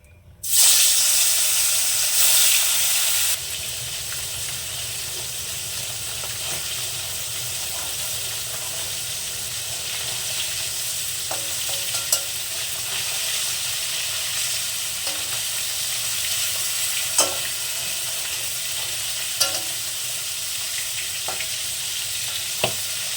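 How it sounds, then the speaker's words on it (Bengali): Turmeric- and salt-rubbed fyasa fish frying in hot oil, opening with a loud burst of spitting sizzle that settles into a steady crackle with occasional sharp pops, close by. "মাছটাকে ভেজে নেব তেলটা গরম হয়ে গেছে মাছ ছেড়ে দেবো"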